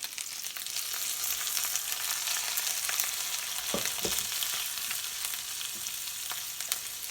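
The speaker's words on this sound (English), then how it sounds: "they're just cooking up real good so they can be nice and tender before they start frying up" Pork ribs frying in a pan, a steady close sizzle with crackling pops and a couple of brief clinks partway through, no talking.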